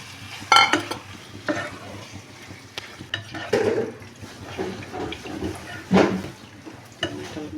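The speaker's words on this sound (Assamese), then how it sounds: "এইখিনি কচুখিনি মই বইল কৰি দিওঁ অকণমান নিমখ দি পেলাই।" Taro being cooked with a little salt for a goat meat curry: close, intermittent scraping and clanking of stirring in a pot over a bubbling, sizzling bed of noise.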